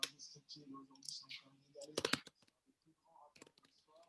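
Someone typing on a computer keyboard during an online community call, bursts of quick clicking keystrokes between stretches of people talking, with a louder flurry midway.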